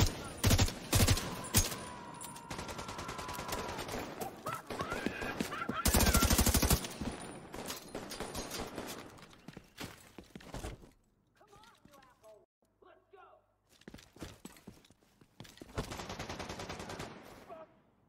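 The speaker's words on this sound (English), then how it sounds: "Maybe someone over there is shooting at me." Bursts of gunfire in The Division 2 on Xbox One: rapid automatic volleys and loud fusillades crackle at close range, stop and start again, with a lull in the middle and a voice speaking over parts of the shooting.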